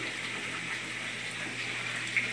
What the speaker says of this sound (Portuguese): A bombinha já está ligada aqui no sistema e está funcionando perfeitamente.